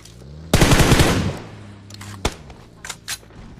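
Rapid automatic gunfire bursts in a shooting video game scrim: one loud, dense volley lasting about a second, then a sharp single shot and a few fainter distant pops, with no talk.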